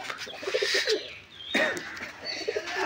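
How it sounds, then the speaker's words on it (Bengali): Madras pigeons coo in a loft, soft repeated throaty calls near the listener, with a brief flutter or rustle in the middle. "এবার পায়রাগুলো দেখাচ্ছি, আপনারা এক এক করে দেখুন।"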